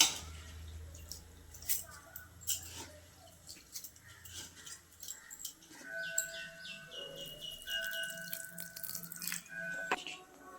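Pearl millet is rinsed in water to wash out stones, with soft splashing, dripping and swishing in a bowl, faint and close, and birds calling in the background.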